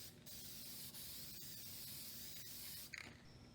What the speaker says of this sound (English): we mist these with a black lacquer to add some depth to the finish